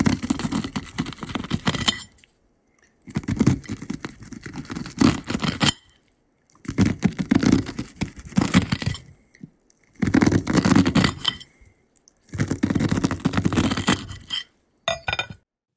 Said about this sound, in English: That was the sound of my dad cutting kernels off of a corn cob.